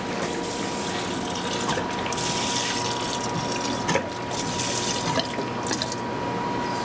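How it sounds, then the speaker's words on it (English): CU6 cleaner pours steadily into the tank of a Graco E-10, a continuous rushing splash of liquid at moderate level with no pauses and no voices. "Add your CU6 cleaner to the tank."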